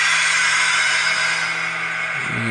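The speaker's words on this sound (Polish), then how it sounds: "chyba zwolnienie hamulca" A TRIX Ee 3/3 model locomotive plays a brake-release sound effect, a steady airy hiss that fades out after about two seconds as lower tones take over.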